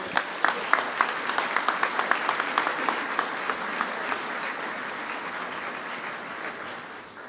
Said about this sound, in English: Let's give another round of applause to all the finalists and the winners.